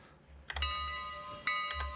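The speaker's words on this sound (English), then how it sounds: "B for bell." A locomotive bell in the Railroader video game rings out in a few clear metallic strikes, each leaving a sustained ringing tone that carries between the strokes, with no talking.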